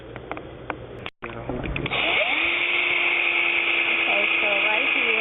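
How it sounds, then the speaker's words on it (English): Power drill fitted with a 1/2-inch bit boring a hole for a lamp fitting in a vanity build: a brief pause, then a loud, sustained whining motor drone up close, preceded by speech-like sounds. "right here I'm just using a 1/2-inch drill bit, and I'm drilling a hole in the middle of where I place my lamp."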